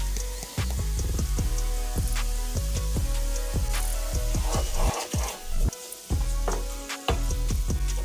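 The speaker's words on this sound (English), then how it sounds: "And stir everything up" Stuffed mushroom filling with black pepper and nutritional yeast sizzling steadily in a hot pan while a spoon stirs and scrapes through it in repeated strokes, close and fairly loud with no talking.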